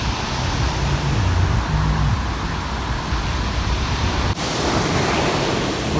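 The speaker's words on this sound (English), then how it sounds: "Down by the beach." Sea waves washing onto the beach beside Southsea Pier in Portsmouth, a loud, steady broadband surf roar that continues throughout with no talk.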